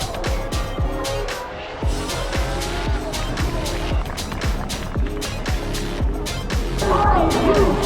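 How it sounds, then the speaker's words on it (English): Formula 1 cars at the 2021 Turkish Grand Prix pass by on their pre-race lap, engine roars sweeping past in a steady series amid a busy grandstand crowd. "the cars are out for their lap"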